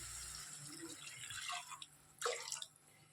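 Water is poured into a cooking pan of roasted spices, giving soft splashes and drips that build into a brief louder gush near the end, heard close in a quiet kitchen.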